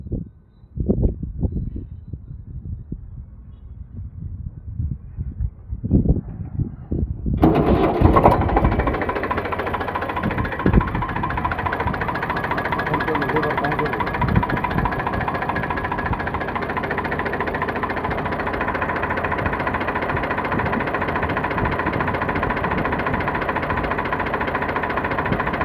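A 45 HP Hydromatic 2015 model tractor engine idles in good condition, a steady, loud mid-pitched rumble with even vibration that starts abruptly after a few seconds of handling knocks and continues unbroken to the end.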